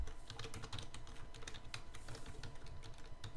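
Steady, close clatter of fingers typing on a computer keyboard while setting up a Minecraft Bukkit server, quick irregular keystrokes with no voices.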